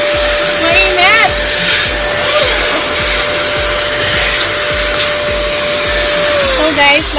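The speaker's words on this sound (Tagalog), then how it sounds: "i-vacuum nyo, ha?" A vacuum cleaner runs loudly and steadily while cleaning a car at a car wash. Its constant motor whine fills the whole stretch, and faint voices can be heard underneath.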